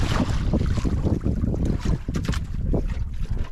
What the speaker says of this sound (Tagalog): medyo lumalakas-lakas ng hangin at merong ulan